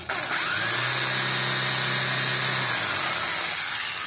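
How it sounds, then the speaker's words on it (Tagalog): A power drill with a dull bit bores into a seized, rounded rotor bolt on a Honda Civic EG hatchback, giving a loud, steady motor whine for a couple of seconds before it winds down, with workshop hum behind. "So, i-drill ko lang to ng konti."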